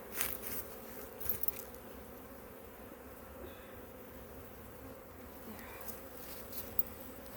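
Bees buzzing steadily around an open beehive during a hive inspection, a dense, continuous hum close by with a few louder passes near the microphone and no talking.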